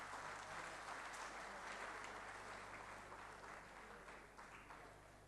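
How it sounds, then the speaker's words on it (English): An awards-night audience in Colombo applauds to welcome the minister, with steady, dense clapping from a crowd heard at a distance that holds evenly over a low hum and fades slightly toward the end. "Please welcome her with a round of applause,"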